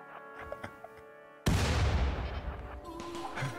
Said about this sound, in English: Next grenade salvo